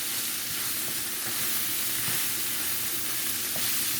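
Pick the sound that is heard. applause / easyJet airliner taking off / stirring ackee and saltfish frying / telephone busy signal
stirring ackee and saltfish frying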